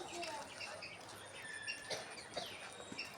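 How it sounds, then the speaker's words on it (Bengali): Parrots perched high in the trees chirp while eating mangoes: scattered short, bright calls at moderate distance over a steady outdoor background hiss. "টিয়া পাখি আছে, অনেক সুন্দর সুন্দর টিয়া পাখি।"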